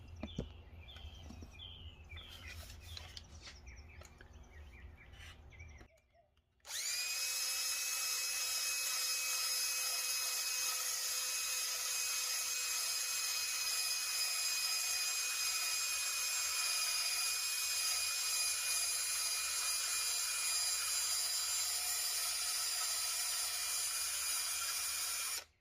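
A power grinding tool for fitting Pro-Tec helmets first rattles briefly, then after a short pause spins up to a loud, steady high-pitched whine that runs unbroken for about twenty seconds, close by.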